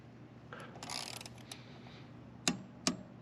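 A GOYOJO torque wrench is worked against a bolt set to 12 newton meters. Faint ratcheting comes first, then two sharp, distinct clicks, near and quiet, with no speech.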